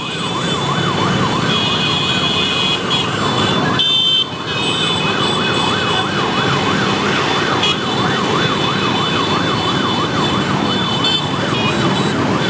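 Loud, continuous siren-like wailing during a marathon race on Lombok, a steady warbling tone over dense crowd and traffic noise, with no clear speech.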